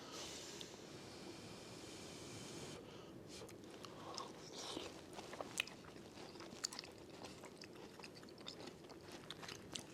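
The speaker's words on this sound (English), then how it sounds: "the crunch of the pecans" Close, crunchy chewing of a hot baked apple filled with pecans, raisins and oats, with irregular bites and soft mouth noises continuing steadily and moderately loud, no talking.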